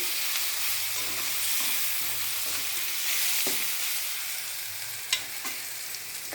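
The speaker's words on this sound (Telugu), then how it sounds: "టమోటాలు కూడా బాగా వేగిపోయాయండి" Tomatoes frying in a pan give off a steady, bright sizzle throughout, with a few soft clinks of stirring near the end and no talking.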